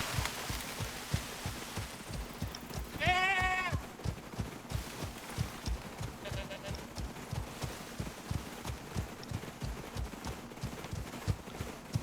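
A horse walks along in a video game, its hooves giving a steady, even clip-clop rhythm throughout, with a brief bleating animal call partway through and no talk.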